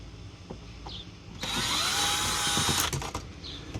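A power drill backs out screws on a wall light switch, with one loud, close whine of about a second and a half, framed by small handling clicks.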